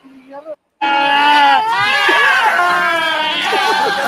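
Goats bleat in Afghanistan, several loud wavering cries that overlap and continue nearby after a brief pause at the start, with a voice briefly heard before them.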